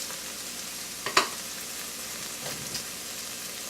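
Tomato paste and garam masala being stirred in a pan for chicken tikka masala give a quiet, steady sizzle, with a couple of brief scraping clicks of the utensil near the middle and once more later.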